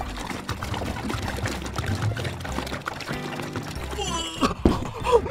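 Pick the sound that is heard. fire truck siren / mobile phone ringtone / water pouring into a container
water pouring into a container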